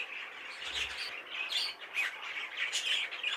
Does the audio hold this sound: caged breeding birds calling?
yes